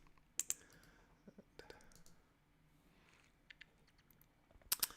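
Computer keys are pressed in sparse, faint clicks, a few isolated taps followed by a quick cluster at the end, in a quiet room while someone navigates a virtual photo exhibition in Mozilla Hubs.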